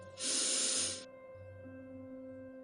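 A single deep breath in, a loud airy rush lasting about a second, followed by quiet with a faint low hum.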